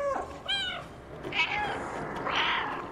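A cat in the game Stray meows twice in quick succession, close and clear, followed by softer game sounds.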